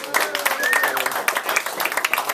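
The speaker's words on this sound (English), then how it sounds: "Give them a round of applause." Audience applause at a Miami Heat basketball event with kids casters, brief clapping and crowd noise mixed with an announcer's voice and a squeaky tonal sound, moderately loud and busy.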